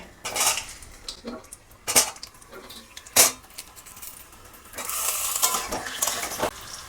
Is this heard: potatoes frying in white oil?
yes